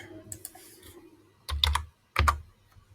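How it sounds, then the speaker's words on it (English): Two short bursts of keystrokes on a computer keyboard, entering a brief message into a chat interface, each burst a quick cluster of clicks close to the mic over a quiet room hum. "let me type in hi"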